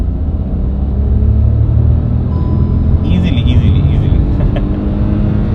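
A Hyundai Grand i10 Nios turbo pulls hard in second gear at around 100 km/h on an empty road. Its engine and road noise make a loud, steady rumble heard under a man's speech.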